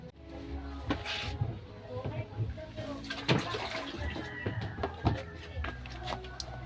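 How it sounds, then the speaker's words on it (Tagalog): Water splashes and pours in uneven bursts while a diving mask is rinsed under it, close and moderately loud, with a person talking over the washing. "So ayan, lagyan lang natin ng tubig"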